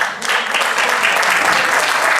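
A closing-ceremony audience at a future summit breaks into loud, sustained applause, dense clapping that swells in and holds steady without pause.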